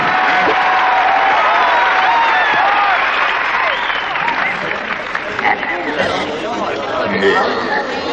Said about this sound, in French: applaudissez celui qu'on ne présente plus